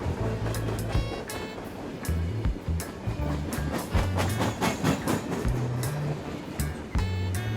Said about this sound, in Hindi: रेलवे ट्रैक पर लोगों से भरी सुपरफास्ट एक्सप्रेस ट्रेन बेहद रफ्तार से दौड़ी चली आ रही है।